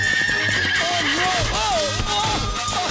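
A horse neighs loudly and close by, with rising and falling whinnies over hoof clatter, while people talk and music-like background sound plays in a comedic film scene.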